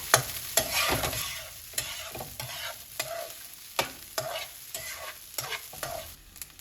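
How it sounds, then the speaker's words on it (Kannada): Sabudana khichdi stirred in a pan over heat: repeated scraping strokes at an uneven rhythm over a soft background sizzle, close and fairly quiet, with no talking. "ಇದನ್ನು ಈ ಥರ ಕೈಯಾಡಿಸ್ತಾನೆ ಇರಬೇಕು, ಇಲ್ಲಾಂದರೆ ಸ್ಟಿಕ್ಕಿ ಆಗಿಬಿಡತ್ತೆ"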